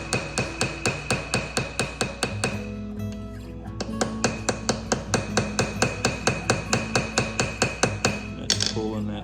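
Brass pins being peened with a hammer on a handmade slip joint pocket knife, spreading the pins to pull the liners together; a steady series of close, crisp metallic taps, roughly two to three per second, with a brief pause midway.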